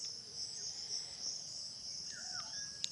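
A mosquito buzzes as a sound effect for a riddle answer: a thin, steady, high-pitched insect whine that holds for about three seconds, alone with no talking.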